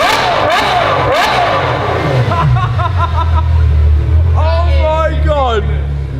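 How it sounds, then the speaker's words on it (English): Loud race car with full exhaust in Gran Turismo 7 at Spa Francorchamps, engine notes rising and dropping through gear changes as cars rev past, with a commentator talking over much of it. "Then it was finally ready to hear the full exhaust."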